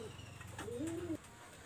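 A Kamagar pigeon gives one drawn-out coo that rises and holds before cutting off abruptly, heard close against a steady low background hum.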